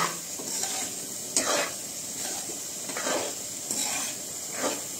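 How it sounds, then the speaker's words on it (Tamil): Egg sizzling in hot oil in a pan for egg curry, a continuous frying hiss broken by several sharp stirring and flipping scrapes, close and without talk. "எக் போட்டு லைட்டா திருப்பி விடணும்,"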